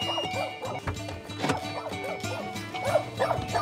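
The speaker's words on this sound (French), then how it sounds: "Et un petit chien." A small dog at a homeless camp in the USA barks and yips repeatedly, close and fairly loud, in quick uneven bursts with a few whimpers between.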